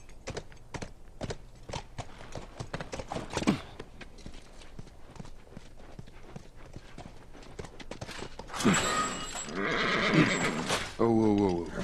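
Steady clip-clopping horse hooves from the video game The Last of Us under talking voices, then a burst of horse neighing and whinnying near the end, fairly loud.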